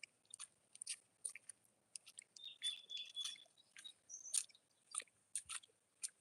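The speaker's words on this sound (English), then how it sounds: "You hear the birds?" Faint, sparse bird chirps and high tweets scattered through a quiet background, with a few short whistled notes; distant and intermittent.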